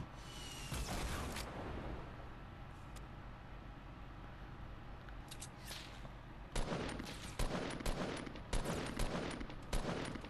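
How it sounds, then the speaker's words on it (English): Rapid minigun fire in a video game, a dense sustained roar that swells louder in the last few seconds, with bursts stacking over a constant rumbling background. "He's getting shot at by other people as well. I do not feel bad for that guy. By a minigun as well."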